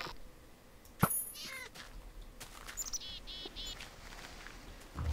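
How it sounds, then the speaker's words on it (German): Cat in Minecraft, a few short meows and higher chirpy calls scattered over a quiet background, with a sharp click near the start. "Hallo Katze, hallo Katze, hallo Katze."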